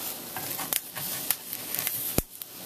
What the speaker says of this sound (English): Cutting them in the pan.